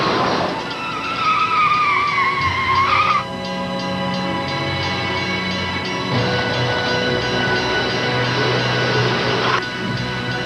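A car brakes hard near a railroad crossing, tires squealing in a long, loud skid that rises and falls, followed by steady engine and road noise and a second squealing stretch later on.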